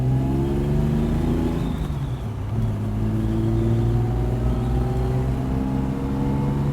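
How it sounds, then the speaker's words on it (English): A 1960s Mercedes engine revs up and pulls through the gears at speed, its pitch climbing, dropping briefly at a shift, then rising again, heard from inside the car without talk. "let's go ahead and rev her up and see how it performs through the gears at speed"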